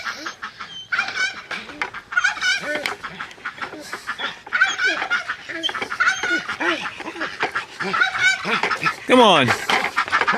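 Domestic ducks quack and honk loudly and repeatedly in a noisy, overlapping chorus close by, while a person briefly calls out to them.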